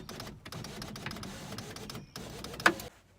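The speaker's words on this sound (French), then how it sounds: "les vitres électriques, qui font d'ailleurs un peu le bruit d'une imprimante" Electric windows of a 1994 Seat Ibiza whir in a steady, printer-like drone that runs for a few seconds, drops out briefly, then resumes and ends with a small sharp clunk near the close.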